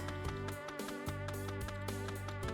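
Flies buzz in the video game Mother Encore as a steady, dense droning hum pulsing in regular beats, loud and continuous with no voices.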